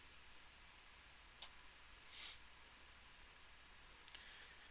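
A computer mouse is clicked a handful of times, each click faint and crisp and separated by irregular pauses over a quiet background.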